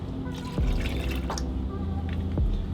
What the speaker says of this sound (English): I'm going to put a dash of bleach